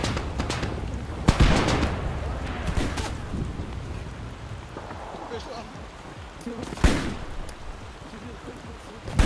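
Gunfire and a grenade blast in a WW2 shooter game, scattered sharp shots and two loud bursts over a crackling, rain-like noise bed, with voices talking throughout.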